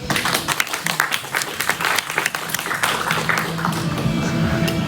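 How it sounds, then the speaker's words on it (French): Applause from a live audience welcoming a special quiz guest onstage at a student campus event, dense steady clapping filling the room for about five seconds with no talk over it. "Voici Julien, applaudissez-le bien fort."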